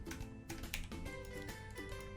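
A computer keyboard pressed for copy and paste while editing a photo, heard as a quick run of close, light clicking keystrokes filling the short span with no talking.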